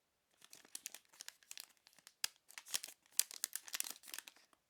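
Crisp plastic wrapping around a Vergani panettone crinkles and rustles close up in quick irregular bursts, with short pauses between handlings.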